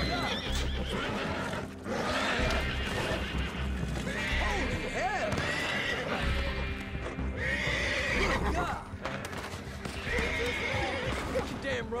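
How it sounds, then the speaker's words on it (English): A horse in the video game Red Dead Online neighing and whinnying repeatedly while hooves clip-clop and stamp nearby, loud and close, with game ambience and people talking over it. "Look at that horse!"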